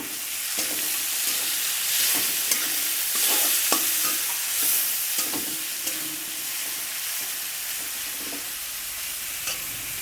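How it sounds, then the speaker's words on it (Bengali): Onion and garlic sizzle loudly in hot oil, with stirring scrapes breaking through the steady frying hiss. "পেঁয়াজ রসুন দিয়ে ভালো করে নাড়াচাড়া করে নেব পেঁয়াজটা ভেজে নেবো"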